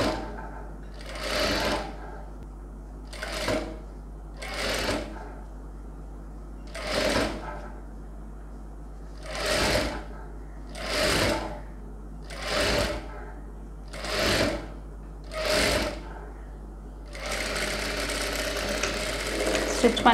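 A sewing machine stitching a tulip sleeve onto a designer blouse runs in about nine short whirring bursts with pauses between, then hums steadily at the end.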